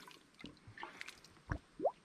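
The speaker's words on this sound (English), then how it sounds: "You can hear the air finally going in, or coming out." Air escapes from a water-filled tube while a cheap off-grid water pump is primed, giving a few faint, close wet squishes, gurgles and drips, with one rising bubbly gulp at the end.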